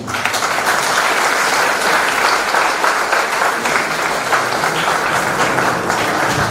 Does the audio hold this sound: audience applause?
yes